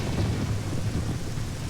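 A thunderstorm with rain in Zelda: Ocarina of Time: a dense, loud rumble of thunder blended with steady rain noise, continuous and without talk.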